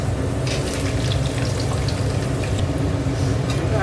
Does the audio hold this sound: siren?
no